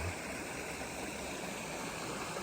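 Waterfall at a pond fishing spot in Korea, a steady broadband rush of falling water that fills the whole stretch evenly at a moderate distance, with no voices.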